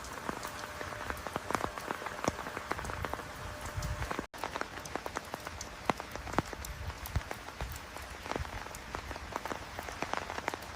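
Rain falling on the ground in Interlaken, Switzerland, a soft, steady patter of drops with scattered sharper taps and splashes, fairly quiet and continuous, with no voices.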